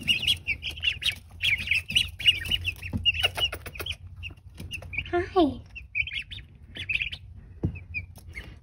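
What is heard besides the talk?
magpie ducklings and young turkeys peeping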